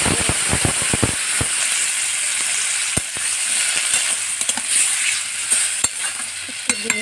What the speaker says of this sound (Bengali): টক করে গাজর আলু বটবটি সেদ্ধ করাটা ঢেলে দেবো।